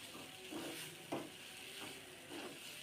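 Noodles stirred and frying on a gas stove, with a steady sizzle underneath and several soft scraping stir strokes spaced about every half second to second.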